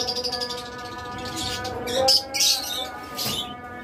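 A pair of split ino pet birds chirp and tweet in bright, quick bursts at close range over a steady background hum.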